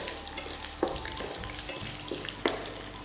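Dried red chillies fry in hot oil for tamarind rice, giving a steady close crackling sizzle with a couple of sharper pops and light stirring scrapes.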